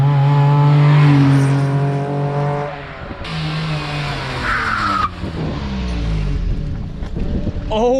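Honda Life car engine revving hard with VTEC, a loud, close engine note with rising and falling pitch sweeps as the revs climb and drop over several seconds, no talking.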